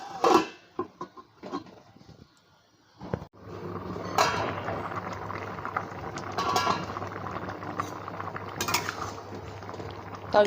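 Cucumber curry simmering in a covered pot, a steady low bubbling boil with clinks of utensils and lid handling near the start, close and moderately loud.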